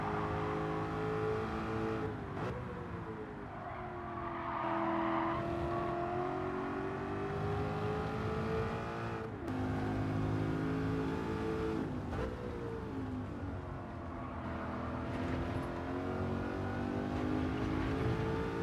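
A BMW Z8 engine in Gran Turismo 7 laps Blue Moon Bay Infield B Reverse, a sustained droning engine note that rises and falls with acceleration and shifts, steady and loud with no talking.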